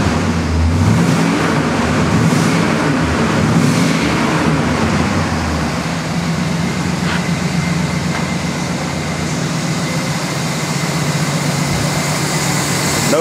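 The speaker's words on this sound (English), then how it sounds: "This car starts every time, it runs beautifully." A 1967 Pontiac GTO engine runs at a steady idle, a continuous low rumble with a slight rise in revs early on, close and loud throughout.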